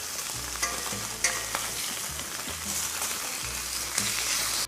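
Spam slices frying until crispy in a pan, a steady dense sizzle with occasional stirring and scraping clatter, close and fairly loud throughout with no talking.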